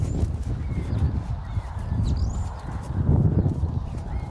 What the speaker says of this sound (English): pick up a right lead canter and canter over this in and out